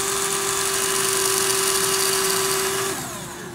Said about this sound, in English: maybe drill a hole through these holes to make them a tiny little bit bigger so the screws will fit through them